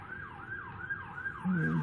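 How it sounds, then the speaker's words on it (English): An emergency vehicle siren from a fire truck or rescue unit at a street protest in Portland wails up and down in about four steady cycles, moderately distant, with a low engine rumble swelling in near the end. "it looks like a fire truck or a rescue"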